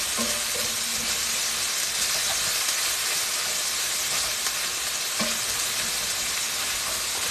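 Meat fries in a hot cast iron pan turned down to medium-low heat, a dense steady sizzle with soft occasional clicks of stirring, close and alone.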